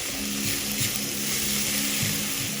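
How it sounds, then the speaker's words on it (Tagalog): Tomatoes sauté in a pan for pakbet with gata, giving a continuous close sizzle and soft crackle at an even level with no talking. "Lugin lang natin ng konti yung ating kamatis."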